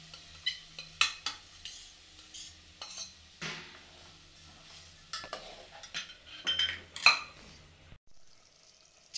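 Steamed village chicken goes into a pan for a spicy rassa curry and gets stirred, with a utensil scraping and clinking against the metal in faint, irregular bursts before a brief lull.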